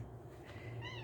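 A pet cat gives a single short, soft meow near the end, faint over a low background hum.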